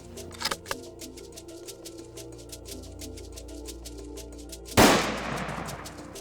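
Rifles are checked at a shooting range, with a couple of sharp cracks near the start and one loud close shot later, each followed by a brief decaying echo against quiet background ticking.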